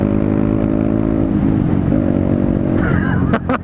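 A Honda CB125R 125cc motorcycle engine drones steadily and close, its pitch dipping and shifting briefly through an upshift, then wind rush and a few sharp bursts of noise break in near the end.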